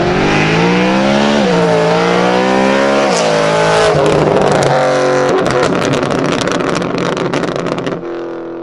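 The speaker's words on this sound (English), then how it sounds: "His car is so loud" A loud BMW M3 does a flyby on a canyon road. Its engine note climbs through several rising sweeps, then turns harsh and crackling as it passes close before fading away.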